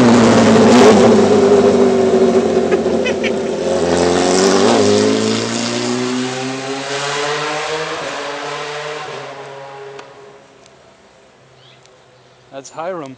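A car revs hard and drives along a neighborhood street, its engine tone climbing through gear changes and fading into the distance before a brief closer sound at the end.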